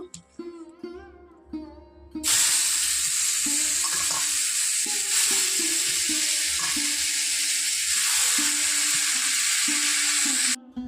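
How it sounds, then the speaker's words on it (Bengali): Loud, steady sizzle of cut potatoes frying in a pan bursts in after a couple of seconds of quieter kitchen sounds and continues hissing for the rest of the clip. "কয়েকটা আলু কেটে নিয়েছি তো ভাজার জন্য"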